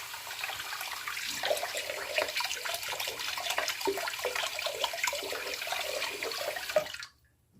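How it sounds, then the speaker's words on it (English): Water from a tap rinsing thick shaving cream off a razor blade, a steady splashing run with small clinks, ending abruptly in silence. "Rinse this clean off the blade."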